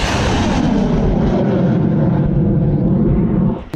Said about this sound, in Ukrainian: Зараз буде залп.